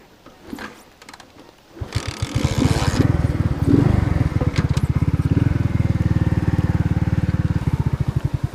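A cold Alpha enduro moped out in swampy wilderness: some handling noise, then the engine catches at about two seconds and settles into a steady, rapid, close-up putter that stays loud to the end.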